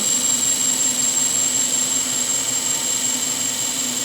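A lapidary grinding wheel runs true while cutting a round cabochon: a steady, close, unbroken whine with a constant hiss across all four seconds and no talking.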